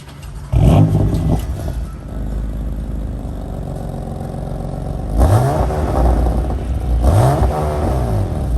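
BMW M4 F82 with an Active Autowerkes mid-pipe starting up, a sharp cranking bark into a loud rev, then a steady rumbling idle broken by two more revving blips.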